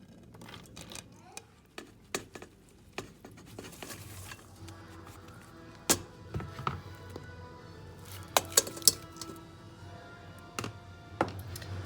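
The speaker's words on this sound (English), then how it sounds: "now we are ready to add all our ingredients into a pot together" Leek and kale soup ingredients go into a pot in an irregular run of soft thunks, taps and clatters of vegetables and utensils against cookware, with a few louder knocks partway through.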